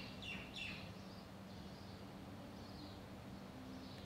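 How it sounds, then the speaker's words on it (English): Birds sing in a garden, with a few faint, distant chirps early on and then only soft twitters over a steady low background hum. "And maybe you can hear the birds singing in the garden."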